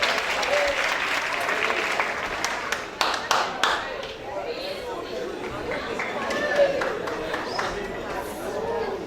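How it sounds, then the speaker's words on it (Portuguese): An audience at a youth talk show breaks into applause, with a dense wash of clapping mixed with crowd chatter and voices, a few sharper claps standing out before the clapping thins out. "Uma salva de palmas para ela"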